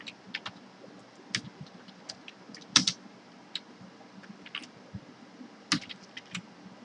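Code is typed on a computer keyboard in quiet, close-up clicks, irregular key taps with a few louder strikes and short pauses between bursts, no one talking.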